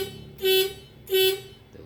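A car horn being tested during a repair for a dead horn, two short, loud, close honks about half a second apart over a low hum.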